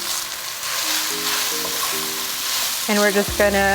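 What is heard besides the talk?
sliced onion frying in a pan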